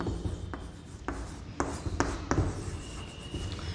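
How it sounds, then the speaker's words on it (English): A pencil writes a number name by hand, with soft scratchy strokes and short taps as letters form, close and quiet over a faint room hum with no talking. "So we are writing the number 14 and number name is, the spelling of the number is number name."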